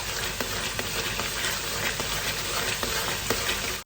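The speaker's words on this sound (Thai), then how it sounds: "ทอดไปเรื่อยๆจนกว่าน้ำมันเขาจะเงียบลงนะคะ" Mung beans deep-fry in hot oil while being stirred, giving a steady, dense sizzle with faint periodic stirring scrapes throughout, close up and alone.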